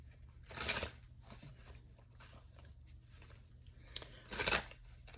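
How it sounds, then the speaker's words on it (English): A tarot card deck is shuffled in a quiet room, with soft papery riffles and flutters, two louder bursts standing out against a faint steady hum. "to get your energy into the deck, I'm going to continue to shuffle"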